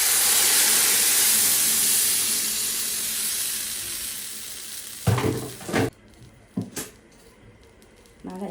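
Tomatoes hit a hot pan while a cow-trotter tagine is being cooked: a loud, bright sizzle that slowly fades, followed by a few scraping stirs and knocks.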